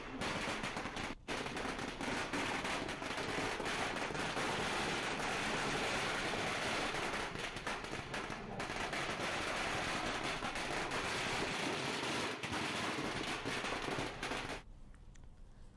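Dense, continuous crackle of firecrackers going off in a long rapid string during a street celebration, loud and sustained for most of the stretch before cutting off abruptly near the end.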